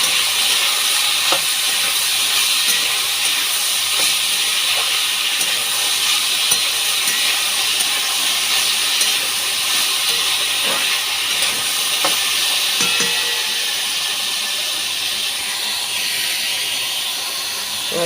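Ivy gourd frying with turmeric in a pan, stirred amid a loud steady sizzle and hiss, with occasional spatula scrapes and taps breaking through the constant frying noise.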